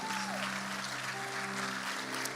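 Church congregation applauding, a steady wash of clapping at moderate distance with a sustained tone underneath, brief and continuous throughout.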